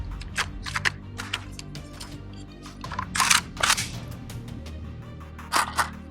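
Several sharp gunshots ring out from a DDI stamped fixed-stock AK-47 rifle, scattered single reports with louder bursts near the middle and end, close and crisp against a low background rumble.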